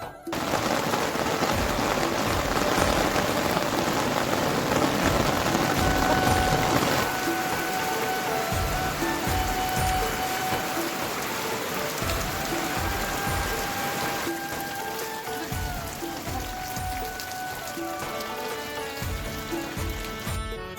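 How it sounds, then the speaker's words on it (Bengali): Rain keeps falling outdoors, a loud, unbroken wash of hiss layered with dense, rapid pattering of drops striking a hard surface nearby, continuing steadily for the whole stretch without any speech. "বৃষ্টি তো কমলো না"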